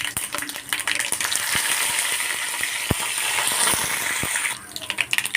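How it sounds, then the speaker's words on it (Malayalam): Mustard seeds sizzle and spatter in hot coconut oil for tempering sambar, a dense close frying hiss dotted with sharp popping crackles that eases off near the end. "ഇനി വെളിച്ചെണ്ണ ചൂടായിട്ടുണ്ട്. ഇനി കടുക് ഇട്ട് കൊടുക്കാം."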